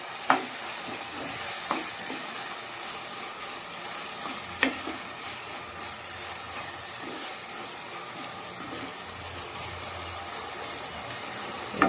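Tomatoes frying in oil with salt for tomato gojju give a steady, dense sizzle throughout, close and continuous, with a few faint stirring clicks and no talking.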